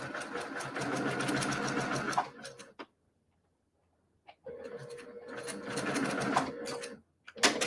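A sewing machine stitches quilt blocks in two loud, fast whirring runs separated by a quiet pause, with a few isolated single stitches in between.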